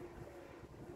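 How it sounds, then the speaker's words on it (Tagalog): Strong wind gusting across the microphone at a windmill farm with large turbines, a steady, loud low roar of buffeting without talk. "Napakalakas ng hangin."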